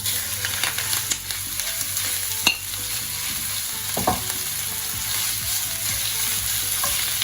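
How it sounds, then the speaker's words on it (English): Goat leg meat sears in a very hot pan of rapeseed oil, giving a steady, loud frying sizzle with occasional sharp crackles and pops throughout, heard close up with no talking. "the meat just into the pan, and we just want to seal this off"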